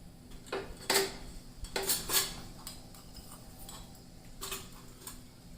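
Mustard seeds splutter in a little hot oil in a pan while vegetable poha is being made, giving scattered sharp pops and crackles in small bursts, close but quiet, with no voices.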